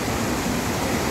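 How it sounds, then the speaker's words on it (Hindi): Dhuadhar waterfall at Jabalpur, Madhya Pradesh, gives off a steady broadband roar of falling water, continuous and fairly distant, with no voices. "किस तरीके से ये पानी यहाँ पे गिरता है, वाटरफॉल का रूप लेता है"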